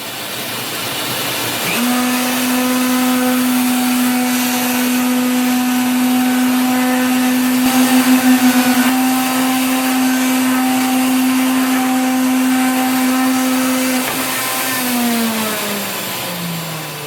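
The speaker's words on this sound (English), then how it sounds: "The first thing I'm going to do is flatten and surface the board." A power tool on a flattening jig surfaces a wooden board for a charcuterie board. The motor whirs up abruptly, holds a loud, steady hum with a faint shift midway, then winds down at the end.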